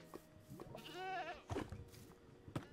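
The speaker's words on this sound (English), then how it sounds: "we were gonna be friends with this goat, but then he hit me" A goat in the video game Minecraft gives a wavering bleat in the middle, nearby and clear, framed by short clicks and thumps of gameplay.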